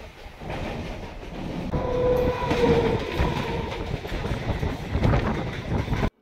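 Rumble and rattle of a moving suburban train heard from inside a nearly empty carriage on the Howrah line, with a steady humming tone rising midway and constant clatter before cutting off.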